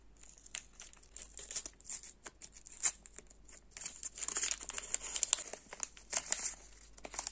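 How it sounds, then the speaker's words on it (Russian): A small plastic packet holding a surprise toy is crinkled and torn open up close, with dense irregular crackling and ripping bursts that swell toward the end, and no voices. "давайте попробуем открыть этот пакетик"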